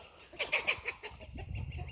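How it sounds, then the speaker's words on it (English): A chicken in a goat shelter squawks in alarm, a rapid burst of four or five shrill cackling cries up close, followed by softer low clucking. "It's just a chicken freaking out for no good reason."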